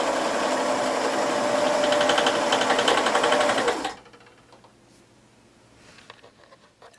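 A serger sewing a flatlock seam on 60-degree fabric wedges for a table runner, running in a loud, steady, fast mechanical hum for about four seconds before stopping abruptly and leaving faint background noise.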